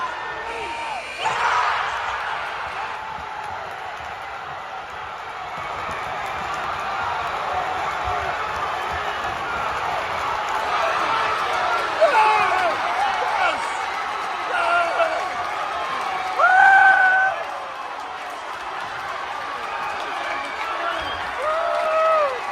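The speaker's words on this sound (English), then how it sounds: "What a shot, what a reaction from the crowd." A crowd erupts at a Philadelphia high school basketball game after a game-winning shot, with loud roaring cheers, shouts and whoops, squeaks from the court, and talk mixed into the din.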